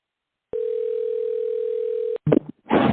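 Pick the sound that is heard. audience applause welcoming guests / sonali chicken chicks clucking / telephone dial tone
telephone dial tone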